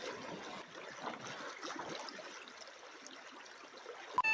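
A river rushes and gurgles steadily during a rural crossing in the Philippine countryside, a continuous broadband wash that stays close and even, with no talk.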